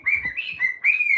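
A cockatoo gives a few close, shrill whistled calls in quick succession, short rising and falling tones separated by brief pauses.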